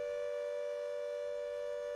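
Air raid sirens over Warsaw produce a steady, sustained wail, a single unbroken tone that holds level throughout with no voices.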